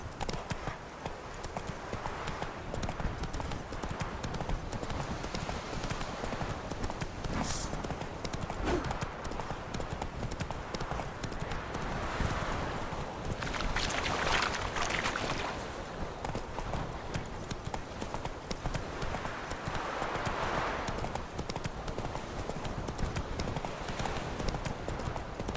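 Roach the horse's hooves clip-clopping steadily in The Witcher 3, a continuous rhythmic patter of hoofbeats over a constant ambient bed, moderately distant and fairly quiet for the whole stretch.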